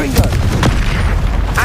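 Bombarda and Confringo spell explosions in the Hogwarts Legacy video game: loud, close booms and blasts in quick succession, with a voice speaking over the combat.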